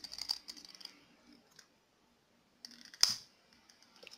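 Scissors snip through macramé thread close up, a couple of short crisp cuts separated by a pause, with faint handling noise between.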